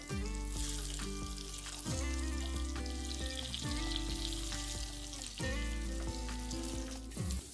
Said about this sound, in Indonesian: saya ini mau mempersiapkan untuk goreng tahu tempenya